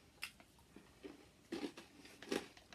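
Quiet, crisp crunches from someone biting into oily cheddar-cheese-flavoured snacks come in a few separate bites spread over a couple of seconds.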